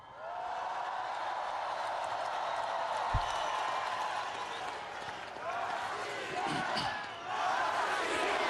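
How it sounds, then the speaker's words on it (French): A large crowd gathered on a public square for a rally, chanting "Russia" in steady unison, a broad, sustained roar of massed voices with one dull thud partway through. "La foule scande « Russie »."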